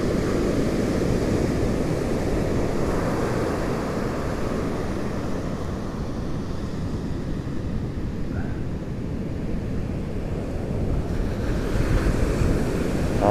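Atlantic Ocean surf breaks on the Fire Island shore in a constant rolling roar, mixed with heavy wind buffeting the microphone.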